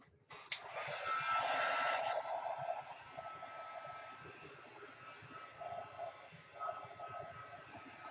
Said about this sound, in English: I'm just going to take my glue heat gun here and just go around the book completely